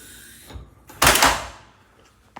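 A hotel room door with an RFID lock at the Shore Hotel in Santa Monica swings open onto an interior corridor: a soft click, then a louder whoosh and rattle of the door moving, fading out, with a small tap at the end.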